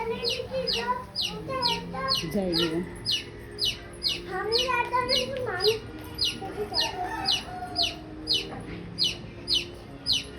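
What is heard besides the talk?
hen clucking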